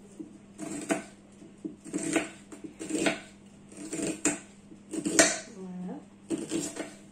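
A knife chops an onion on a board in a kitchen, regular knocking cuts about once a second, close and clear, with voices talking between the strokes.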